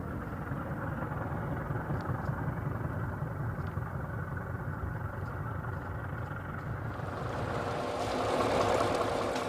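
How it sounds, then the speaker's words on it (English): A train engine on a long rail journey in the Andes near Bolivia and Chile runs with a steady low rumbling drone, continuous and close, swelling slightly toward the end with no talk. "Our engine needs constant cooling."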